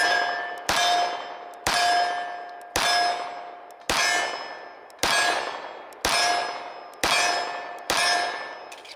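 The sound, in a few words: Dan Wesson Specialist Commander 1911 pistol firing Sig 230gr FMJ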